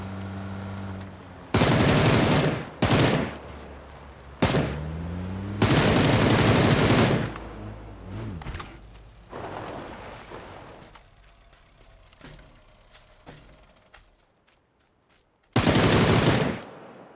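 PUBG gunfire: loud bursts of automatic fire in several separate volleys, with quieter single shots and game ambience between, and a final heavy burst near the end.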